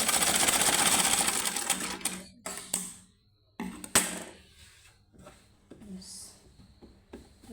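A sewing machine stitches a kurta (fatua): a fast, dense mechanical whir of stitching runs close for about two seconds, then breaks into short bursts, clicks and pauses as the cloth is shifted.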